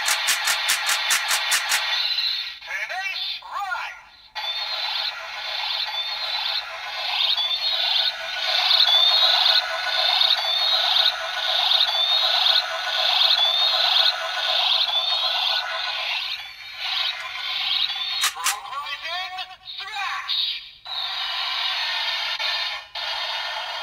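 DX Progrise Hopper Blade toy from Kamen Rider Zero-One sounding its standard electronic slash effects, a repeated series of bright, chirpy synthesized swipes that play loud and close through the toy's speaker, with brief gaps and a click near the end.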